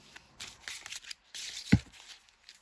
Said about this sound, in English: I'm going to shuffle to get one for this card over here